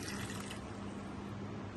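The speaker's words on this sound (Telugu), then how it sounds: "ఒక కప్పు బెల్లం గిన్నె వేసేసుకుని అలాగే కొద్దిగా వాటర్ వేసుకుని" Water streams into a pot of jaggery in a kitchen, a short, steady rushing pour that stays even and close from start to finish.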